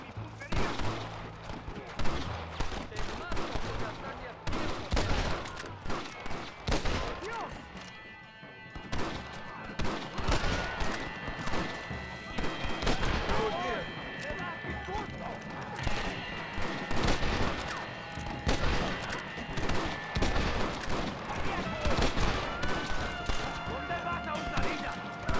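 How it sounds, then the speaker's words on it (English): Gunfire in Red Dead Redemption: a dense, near-constant battle of rifle and pistol shots with crashes and impacts, loud and close, with shouted voices mixed in. "Mira cómo cantan las balas"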